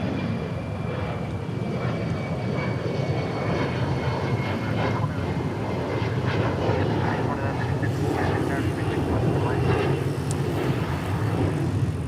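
Aircraft engines roar steadily as planes take off on runway 36 right at night at DFW International Airport, a continuous loud rumble with voices talking faintly underneath.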